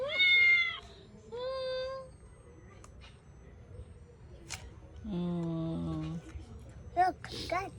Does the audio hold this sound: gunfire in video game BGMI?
no